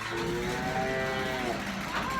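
Cows on a farm in fall mooing, one drawn-out low call that rises and falls with a harmonic tone, heard close over a steady outdoor background.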